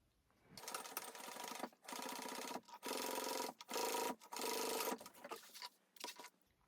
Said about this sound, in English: we're going to sew along this edge of the fold with an 1/8 of an inch seam allowance